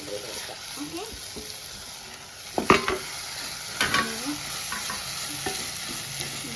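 Prawns sizzle in a pan for prawn biryani, a steady frying hiss with intermittent scraping clatters as they are stirred, while a voice murmurs faintly underneath.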